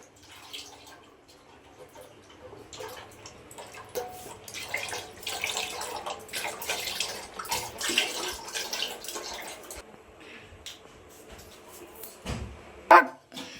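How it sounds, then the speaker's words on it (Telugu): About two litres of milk poured into a pot for making semiya, a soft continuous liquid splashing that swells and fades, close by, with faint background noises and a brief clatter near the end. "మేమైతే 2 లీటర్ పాలు పోసుకుంటున్నాం."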